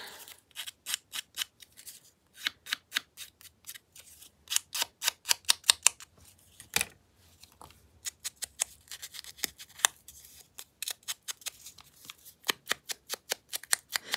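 Rapid, crisp snips of scissors cutting paper for a journal, in quick bursts with a brief pause midway, close up and with no voices.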